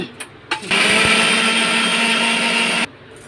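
A mixer grinder grinding ginger, green chillies and coriander: a few short clicks, then a loud, steady high-pitched motor whir for about two seconds before it cuts off abruptly.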